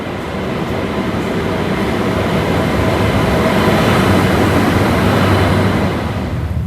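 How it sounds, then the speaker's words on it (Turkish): An Intercity Express train rumbles in loudly with a steady roar and rhythmic rail clatter, swelling slightly as it nears, then easing toward the end. "Intercity Express geliyor."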